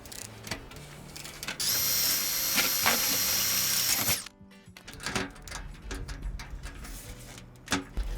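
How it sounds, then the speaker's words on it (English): A power drill with a cobalt bit drives sheet metal screws into stock tank hot tub pipe sections, a loud steady whir lasting a couple of seconds, followed by softer clicks and handling noises. "you're gonna need a drill, and you'll use the cobalt bit that comes with your kit"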